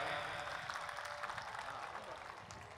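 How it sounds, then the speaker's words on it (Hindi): An audience claps at a Hindi kavi sammelan poetry recital, a broad, steady wash of applause from a crowd, fairly faint and distant, easing slightly toward the end. "जरा जोरदार तालियां एक बार जानी के सम्मान में आप बजा दें"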